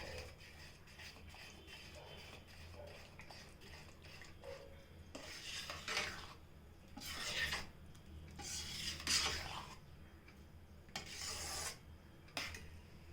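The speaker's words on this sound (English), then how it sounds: "adding another spoon of ghee, giving it a small mix" Ghee being mixed into chakrapongali with a spoon, a soft, close rubbing and scraping that rises into several swishing strokes against a low background hum.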